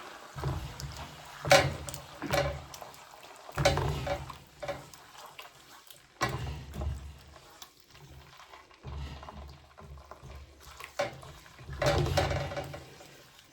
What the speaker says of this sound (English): first we'll just stir this up